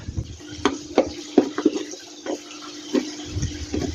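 Fresh basil cuttings being dipped and soaked in a container of water make a series of light splashes, drips and small clicks, spaced irregularly and close by, over a steady low hum.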